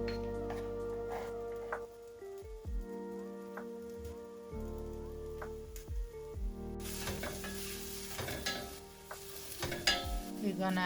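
Thinly sliced onion frying in olive oil in a pan, a steady crackling sizzle broken by intermittent stirring scrapes, close and moderately quiet.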